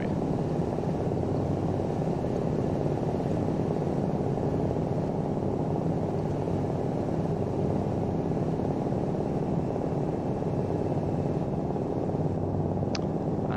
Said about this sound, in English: I'm trying to maintain the chopper in the axis of the runway and maintaining it flat.